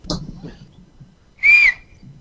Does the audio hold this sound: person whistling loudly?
yes